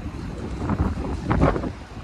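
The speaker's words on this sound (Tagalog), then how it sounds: "Mahangin nga lang." Steady outdoor wind rushing and buffeting the microphone in shade near a Catholic church in Maliya, a continuous broadband roar that swells slightly toward the middle.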